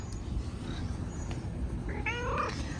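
A neighbour's cat meows in a few drawn-out, rising-and-falling calls near the end of the clip, close by, over a steady low background rumble.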